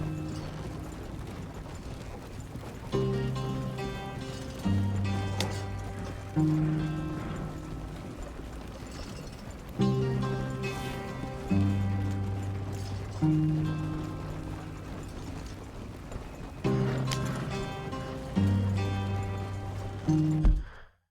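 Horse hooves clip-clop in Red Dead Redemption 2, heard as steady hoofbeats beneath swelling musical score phrases that rise and fade in repeating waves, moderately loud throughout.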